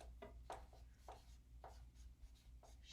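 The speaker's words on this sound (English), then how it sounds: "So I'm going to write" Pen strokes scratch on paper in short, irregular bursts, faint and close, with a low steady hum underneath and no talk.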